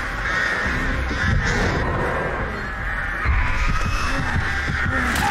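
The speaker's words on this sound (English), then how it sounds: "Ace, you really want to get rid of those crows, though, man." Crows caw in Dead by Daylight, several harsh calls repeating over a low throbbing ambient drone, fairly loud and close.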